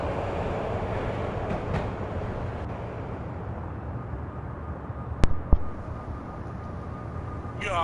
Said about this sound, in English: Jumping on the roof of moving icy slickery train